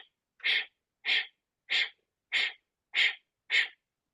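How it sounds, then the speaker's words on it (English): Six rapid, sharp nasal exhales in steady rhythm during a fast breathwork exercise, each a short forceful puff of air separated by a brief silent passive inhale, close and clear with no talking. "you're doing really fast exhales through your nose and a passive inhale"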